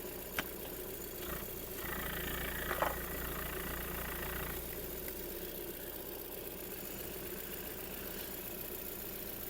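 A 2005 Volkswagen Golf Plus with a 1.6 petrol engine idles quietly and evenly in the background, with a couple of brief clicks and a faint rustle over the low steady hum.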